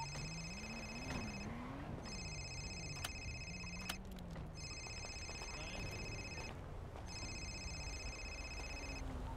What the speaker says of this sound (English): I literally hear your phone ringing.